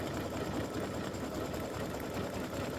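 A sewing machine runs steadily, stitching appliqué over raw fabric edges on football-shaped turkey feathers, a loud, continuous motor whir with dense rapid needle chatter and no pauses.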